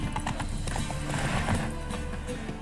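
Geralt's horse Roach in The Witcher 3 video game, steady close hoofbeats clip-clopping in rhythm with a whinny mixed in over a dense ambient game backdrop.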